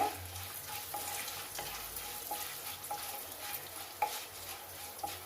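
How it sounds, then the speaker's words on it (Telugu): Urad dal and chana dal fry in hot oil for a spiced ivy gourd and onion dish, with a steady soft sizzle broken by regular scraping strokes of a stirring spoon. "ఉద్దిబ్యాళ్ళు, శనగబ్యాళ్ళు అన్నీ బాగా వేగితేనే టేస్ట్ ఉంటుందండి."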